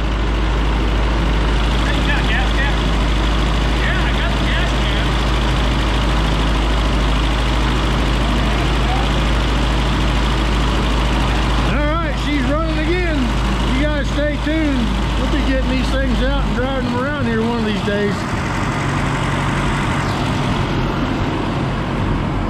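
An M151 military jeep engine idles with a steady low rumble while people talk loudly over it midway, then the engine drops away near the end.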